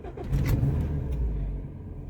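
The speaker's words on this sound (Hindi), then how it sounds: "तो भाई चलें गोल्ड स्टार्ट करते हैं गाड़ी को" A car engine starts up in a cold start: a brief burst of cranking, then the engine catches and settles into a steady, close, low rumbling idle.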